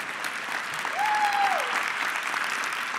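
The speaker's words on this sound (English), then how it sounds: "Yeah, you can clap for that." Steady applause fills a large hall at the Microsoft Ignite keynote, an even wash of many hands clapping at moderate volume, with a brief tonal whistle-like glide partway through.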